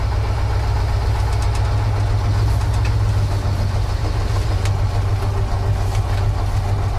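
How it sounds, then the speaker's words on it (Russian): KrAZ 255 truck driving with its engine running, a loud, steady, low rumbling drone that continues without a break, heard from close by with no voices. "первый проезд КРАЗа"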